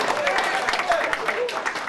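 An audience at an athletics awards event claps and cheers, a steady wash of applause filling the space at moderate loudness, with voices mixed in.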